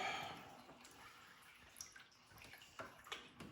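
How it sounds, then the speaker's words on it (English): Water drains from a fish room overflow pipe in a faint, steady trickle and gurgle with scattered drips, running throughout with no voices. "Water drain out."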